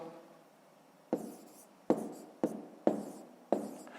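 Pen or pencil strokes on paper as numbers are written by hand for a long multiplication exercise, a few distinct scratchy strokes in an otherwise quiet room with a faint background hum.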